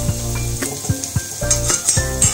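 Onions fry in a pan until reddish, giving a steady loud sizzle. Stirring scrapes and light clinks of a spoon against the pan come at a regular rhythm.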